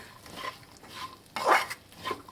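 A spoon stirs a mixture with roasted poppy seeds and roasted sesame seeds in a bowl, giving a few soft scraping strokes, with one louder scrape near the middle.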